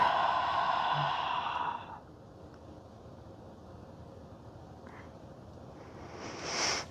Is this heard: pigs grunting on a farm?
no